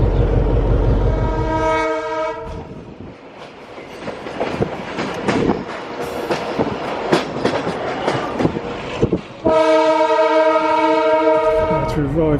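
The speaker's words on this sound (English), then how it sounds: "diesel at the front of the train" A big diesel locomotive at the head of a passenger train crossing from Serbia toward Bulgaria, heard as loud horn blasts at the start and again near the end, with a steady rumbling, clattering run of train noise in between.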